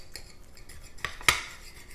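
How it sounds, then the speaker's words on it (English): A knife cuts into a big plain sous vide reversed cheeseburger with the cheese inside, giving a few light scrapes and two sharper clicks of metal against the plate, close and otherwise quiet. "I've got my knife. Let's cut through this"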